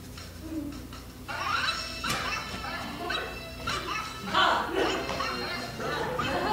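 A recorded dog barking and yipping played back from a sound file during a fringe theatre tech workshop, a run of repeated barks and whimpers at moderate volume over a noisy room, with people talking.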